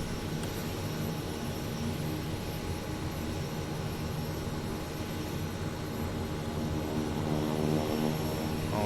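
A Kodiak 100 turboprop engine runs after start-up, a steady, loud, even roar and whine with no talk over it.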